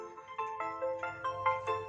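A remixed ringtone plays from an Oppo phone speaker, a bright repeating electronic melody with rhythmic plucked notes, heard up close and alone.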